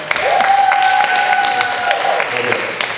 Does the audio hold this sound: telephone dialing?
no